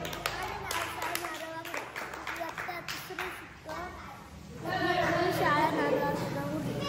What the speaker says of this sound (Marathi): मस्त टाळ्या वाजवा टाळ्या वाजवायच्या